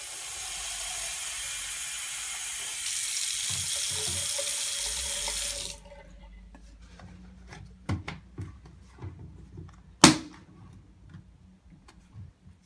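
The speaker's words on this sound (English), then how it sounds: "You will add an inch or an inch and a half of water at the bottom of the reservoir" Water is poured from a tap into the bottom of a urine-collection reservoir, a steady broadband rush for several seconds that cuts off, followed by scattered light plastic clicks and handling knocks.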